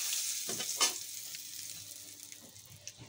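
One bay leaf dropped into hot oil crackles and sizzles softly nearby, with a few sharper pops over a fading hiss.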